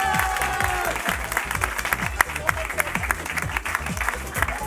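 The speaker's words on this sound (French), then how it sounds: "Mesdames et messieurs, on peut encore les applaudir." An audience at a quiz night applauds the winners with dense, sustained clapping that fills the whole stretch, close and lively, with a voice murmuring faintly beneath it.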